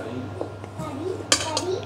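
Spoon stirring turmeric into a pot of Bandung-style soto with chicken broth, brief metallic clinks and a sharp scrape against the pot, close and short, over faint background sound.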